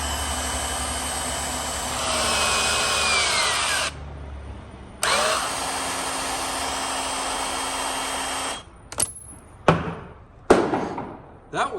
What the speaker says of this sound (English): we got the new Ryobi crimper here. It's a power crimper.